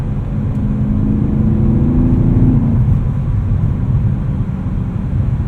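An E92 BMW M3 Lime Rock Edition with a 6-speed manual is driven hard, its engine droning loud and steady inside the cabin with a rising rev tone that fades into a broad roar and road rumble.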